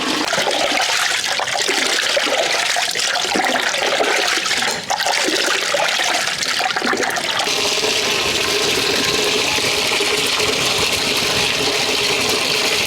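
Fresh fish is rinsed under running water with vinegar added, giving a loud, steady rushing splash that continues for the whole stretch and grows brighter and more even toward the end.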